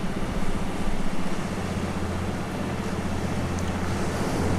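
Steady surf washing onto a beach, a continuous broad wash of breaking waves with some wind noise, heard alone without voices.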